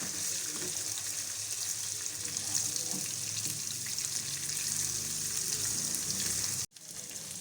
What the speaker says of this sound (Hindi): मसाले डालकर इसे थोड़ा सा फ्राई करेंगे